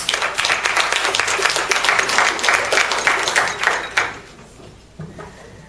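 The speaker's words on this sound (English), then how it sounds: "Give them a round of applause." A crowd applauds at a Kwanzaa celebration in Vallejo, dense steady clapping for about four seconds that then fades to a few scattered claps and quiet room sound.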